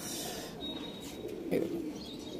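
Pigeons cooing inside a loft, a low steady murmur of coos running throughout at moderate level, with a brief louder burst of cooing near the middle.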